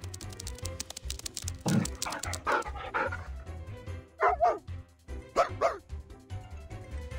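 A puppy in the video game Reverse 1999 gives several sharp, close barks and yips spread across the scene, with light clicking between them and no clear talk.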